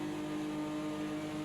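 A 1999-spec stock car engine holds high revs on a racetrack, a dense steady drone with a strong tonal hum that stays constant through the short stretch, no commentary audible over it.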